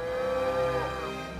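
A cow from a herd of grazing dairy cows on a family farm gives one long, clear moo that rises and then trails off, close and alone with no talk.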